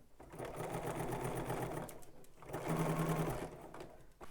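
A domestic sewing machine stitches a pocket seam in two steady runs of buzzing, whirring motor noise separated by a brief pause, close and fairly quiet, with no talking.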